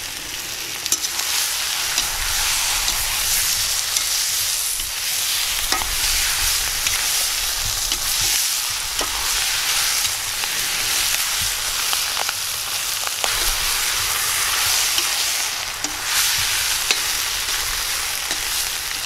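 Carrots sizzle steadily in a hot pan, with occasional scrapes and knocks of a spoon stirring them, near and continuous with no talk, while chicken legs are being braised with vegetables.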